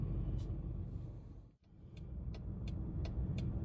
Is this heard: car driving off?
yes